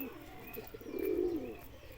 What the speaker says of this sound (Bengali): দেখুন, সব পায়রা এখানে আছে।